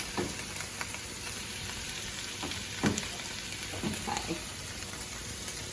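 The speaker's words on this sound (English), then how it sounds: "While these veggies cook" Fajita vegetables sizzle steadily in a pan, a soft continuous frying hiss with occasional small pops and clatters, low and close with no talking.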